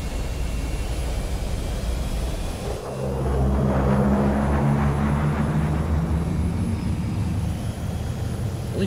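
Dropships fly in an animated SFM scene: a loud, continuous aircraft engine roar swells and holds a low droning hum, with no voices.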